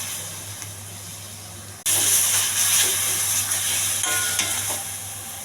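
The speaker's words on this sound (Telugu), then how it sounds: "పచ్చివాసన పోయేంత వరకు వేగించాలి" Coconut and peanut paste with ginger garlic paste dropping into hot oil and frying in a pan, a sudden loud sizzle that stays steady and hissing, close by, after a quieter kitchen hum.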